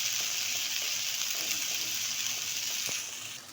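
Ginger and garlic frying with cinnamon sticks and whole black peppercorns, a steady loud sizzle throughout with faint stirring taps, easing off slightly at the end.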